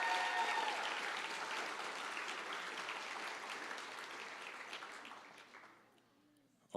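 An audience at a senior awards night applauds a student after her speech, a broad wash of many hands clapping in a hall that slowly thins and fades toward silence at the end.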